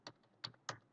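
Quick, crisp keystrokes on a computer keyboard, three distinct taps with a fourth starting at the end, close and quiet, while a command is typed into a command prompt.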